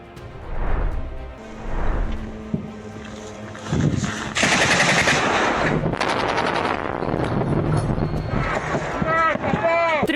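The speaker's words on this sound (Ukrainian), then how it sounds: "Двома влучними пострілами ліквідували три шахеди." Bursts of gunfire crack out repeatedly as Ukrainian forces shoot down Shahed drones, with rapid automatic shots and booming reports amid wind and engine noise, loud and close.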